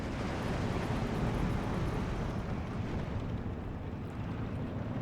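Artillery in the Steel Division 2 wartime strategy game gives a sustained, heavy, rumbling roar, a dense low-end boom that rolls on for several seconds at a fairly even loudness.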